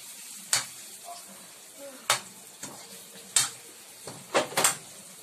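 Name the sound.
stirring dilis anchovies with brown sugar in frying oil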